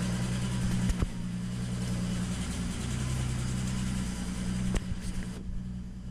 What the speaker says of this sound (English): Cylinder three is misfiring.